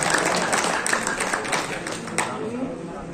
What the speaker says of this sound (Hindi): आपसे चाहूंगा कि जोरदार तालियों से इनका हार्दिक अभिनंदन और स्वागत होना चाहिए